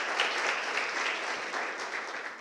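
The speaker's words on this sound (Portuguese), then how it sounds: "Você pode aplaudir o Senhor?" A church congregation breaks into steady, dense applause during a sermon, the clapping sustained and fairly close for the whole stretch with no voices over it.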